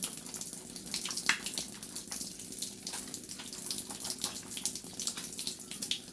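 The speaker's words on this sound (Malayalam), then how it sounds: "കൈ ശരിക്കും സോപ്പിട്ട് കഴുകാണ്" Hands are scrubbed with soap under a running tap, water splashing and gushing close by in uneven bursts as the hands move through the flow.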